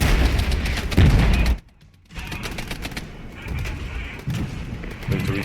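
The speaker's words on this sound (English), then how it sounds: "my artillery is also now firing up, opening up on them" Artillery fires in the video game Regiments, with repeated heavy booms and crackling gunfire in a busy battle mix, broken by a brief quiet gap before the barrage resumes.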